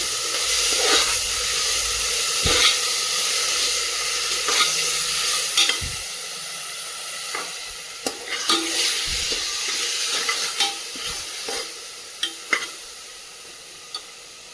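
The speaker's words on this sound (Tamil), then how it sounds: "இப்போ நம்ம ஆல்ரெடி அரைச்சி வச்சுருக்க இஞ்சி பூண்டு பேஸ்ட்டையும் இதில் மிக்ஸ் பண்ணிக்கலாம்." Ginger garlic paste is stirred into sautéing onions in a pan for tomato rice, giving a constant sizzling hiss with repeated scraping strokes of a spoon and occasional sharp clicks, close up and with no voices.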